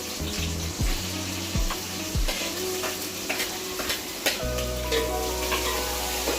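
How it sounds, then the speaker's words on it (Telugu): Mustard seeds, green chillies, tomatoes and onions hitting hot oil for Rayalaseema-style uggani, a busy sizzle with scraping stirs and clinks of a ladle against the pan, plus a low steady hum running underneath. "నూనె అయితే వేడెక్కింది ఆవాలు కొద్దిగా కొద్దిగా అలానే పచ్చిమిర్చి టమోటాలు ఉల్లిగడ్డలు అయితే వేసుకుందాం"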